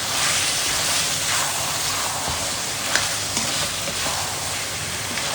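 Chicken cooks in an electric rice cooker with red chilli powder and biryani masala, giving a steady close sizzle broken by a few soft scraping stirs.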